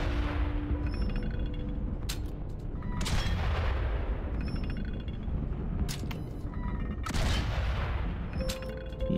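Repeated gunfire in the WWI video game Valiant Hearts: The Great War, aimed at a windmill. Loud broadband blasts come in clustered volleys with short gaps over a steady rumbling, mechanical game background.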